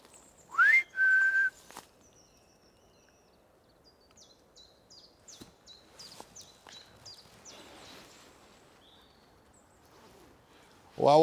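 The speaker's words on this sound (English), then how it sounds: "Any spirits, could you whistle?" A person whistles in a forest at Cannock Chase: two clear rising whistles near the start, then quiet woodland with faint high chirps and soft rustling footsteps, and a brief sound at the very end.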